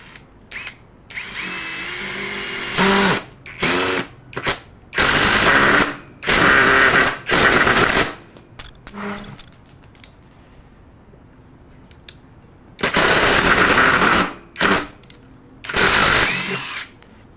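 A Prostormer 17V cordless impact driver drives a large screw in several loud bursts of whirring, hammering impacts separated by short pauses, near and with no talking.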